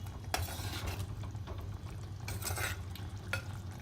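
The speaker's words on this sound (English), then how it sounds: "and give it a good stir" Freshly ground dried spices stirred into a red guava curry in a pan, with scraping strokes and a soft sizzle running steadily underneath, close and moderately quiet.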